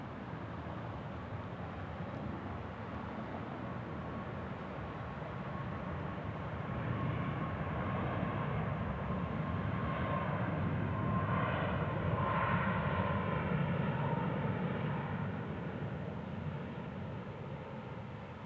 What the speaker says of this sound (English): This is our arrival from Houston Hobby on the Max 8.